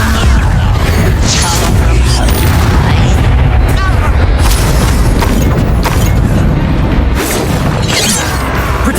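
Spell blasts in the Hogwarts Legacy video game, dense continuous booms, crashes and shattering impacts in rapid succession, loud and close, with a voice shouting spell names over the combat.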